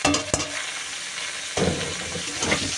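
Cabbage hits a pan of hot oil where potatoes were frying, producing a close, loud sizzle with a few sharp stirring knocks and scrapes over about three seconds.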